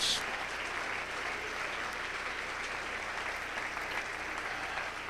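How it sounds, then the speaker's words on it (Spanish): A church congregation applauds during a sermon, a steady wash of clapping held at a low, distant level for about five seconds without letting up. "Dele un aplauso al Señor con todo su corazón"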